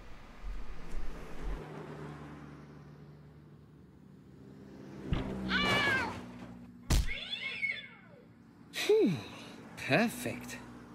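A cat meows in the Randal's Monday video game, a few short mewing calls rising and falling over the last few seconds after a quiet stretch, fairly close, with game noises and a thunk between them.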